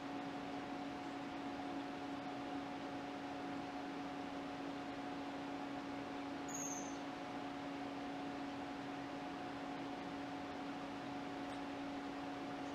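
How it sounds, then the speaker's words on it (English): A CNC machine just after power-on gives off a steady, quiet electrical hum with a fan-like hiss and two constant tones, unchanging throughout; a brief faint chirp appears midway. "wait a couple seconds for the machine to start up"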